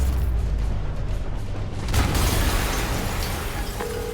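An explosion in a Spider-Man video game rumbles as a low, sustained roar, then a sharper burst hits about halfway through, followed by a noisy wash of debris and mechanical clatter that slowly settles.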